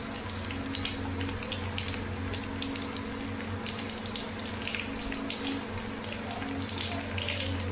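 Black mustard seeds crackle and spit in very hot oil, tempering for a mango pickle, a dense steady sizzle with scattered bright pops over a low constant hum.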